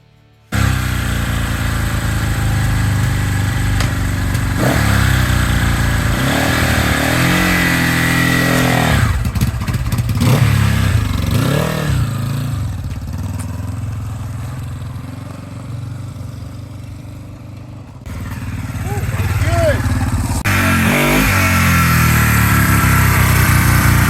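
Vintage motorcycle engine at a vintage-bike event, running steadily close by with a few throttle blips and revs midway, its idle dipping then picking back up, loud throughout.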